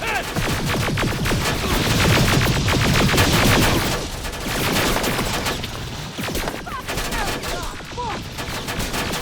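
Dense gunfire in the Terminator: Resistance Annihilation Line DLC, with rapid overlapping shots and machine-gun bursts rolling continuously for several seconds, loud and close, with shouting voices in the mix.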